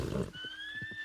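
A horse in Red Dead Redemption 2 gives one clear whinny, a rising, wavering call lasting about a second, with soft hoof thumps and low rumble underneath.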